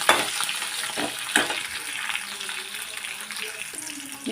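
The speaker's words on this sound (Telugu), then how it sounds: "కరివేపాకు వేగిన తర్వాత మనం కోసి పెట్టుకున్న పచ్చిమిర్చి వేసేస్తున్నాం" Green chillies and curry leaves fry in a pan with a bright, crackling sizzle, close and moderately loud, and several sharp spatter bursts early on before the frying settles into a steadier hiss.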